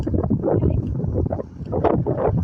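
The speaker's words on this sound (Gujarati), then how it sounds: "પવન એટલો બધો હોય" Strong wind buffets the microphone in a steady low roar with gusty surges, loud and close, with no voices over it.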